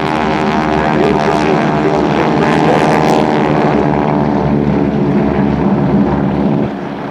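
An Extra 300L composite aerobatic monoplane drones loudly overhead at an air expo, its propeller engine a steady, rough, buzzing roar with wind buffeting, fading slightly at the end.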